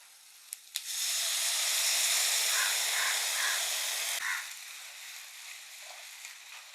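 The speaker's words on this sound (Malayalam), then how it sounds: "വിനാഗിരി ഒഴിച്ചു കൊടുക്കുവാണേ" Vinegar poured into a hot pan for a fish pickle sizzles and hisses loudly for a few seconds, then settles into a quieter steady bubbling, close by and with no talking.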